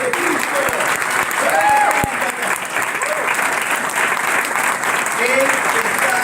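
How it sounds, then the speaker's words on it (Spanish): Strong, continuous applause from a church congregation during an evangelistic service, dense clapping filling the room throughout with voices and shouts rising over it. "Dale un fuerte aplauso a la presencia de Cristo."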